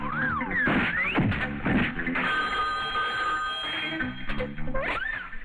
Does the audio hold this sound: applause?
no